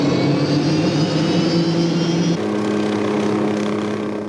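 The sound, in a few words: Hughes 500 helicopter engine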